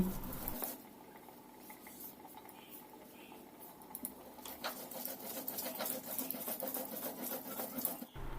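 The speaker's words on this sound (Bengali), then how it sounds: "আমি কোনো রকম জল ব্যবহার ছাড়াই এই সেদ্ধ করা খারকোল পাতা পাতাগুলো খুব মিহি করে বেটে নিচ্ছি" Boiled kharkol leaves are ground by hand on a grinding stone without water, making a faint, irregular scraping and soft pattering that grows busier and more continuous in the second half.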